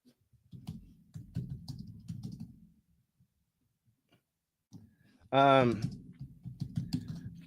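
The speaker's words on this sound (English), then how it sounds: "One second, I just gotta type this." Keyboard typing during a livestream talk show, a run of quick soft clicks in two bursts around a pause, with a voice briefly talking in the middle.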